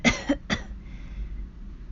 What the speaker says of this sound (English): another round of coughs escaped him, and he brought his fist up to cover his mouth